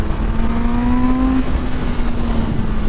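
A retro naked motorcycle, Yamaha XSR900 or Kawasaki Z900RS, accelerates from 3,500 RPM. Its engine note rises steadily and holds a loud, continuous drone throughout.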